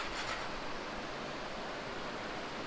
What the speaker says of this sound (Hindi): रात भर ये नदी का आवाज़